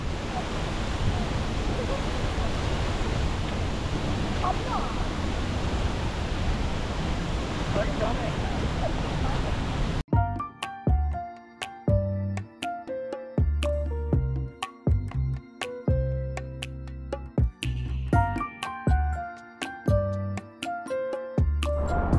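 A waterfall in Costa Rica roars as a broad, continuous rushing wash for about ten seconds, then gives way abruptly to music.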